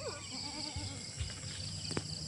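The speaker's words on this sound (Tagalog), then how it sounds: "Ay yung kambing na lalaki." A male goat bleats at a rural farm hut among herded livestock, with a short wavering cry near the start over steady insect-like background noise and a few faint thumps.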